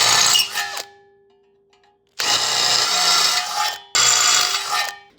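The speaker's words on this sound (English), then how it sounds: "Now we widen those 5 holes here for the diesel line and the bolts to 7 millimeter." A power drill widens holes to 7 mm in a mounting flange for an Autoterm 2D diesel air heater: three loud whining bursts of drilling, the first trailing off into a quiet pause before two more runs close up.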